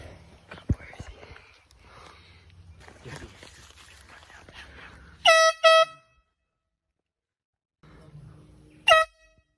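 An air horn blasts twice in quick succession on a golf course, loud and close, then once more after a pause; quiet whispering and rustling footsteps come before the blasts.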